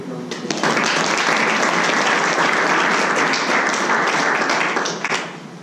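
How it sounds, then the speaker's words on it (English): Loud, dense applause from the audience at an entrepreneurs' social evening in Durban as a guest speaker is welcomed, swelling quickly, holding steady for several seconds, then tapering off at the end. "let's give him a big round of applause"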